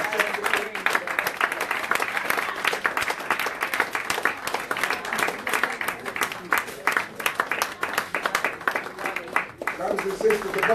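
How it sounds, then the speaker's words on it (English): Sustained audience applause at a Muhammad Mosque of Europe gathering featuring a minister, dense steady clapping filling the whole stretch with a crowd murmur and some voices mixed in. "Let's keep the applause going until the last thing for this thing"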